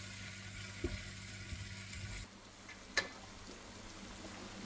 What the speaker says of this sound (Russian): вот такая вот красота у нас жарится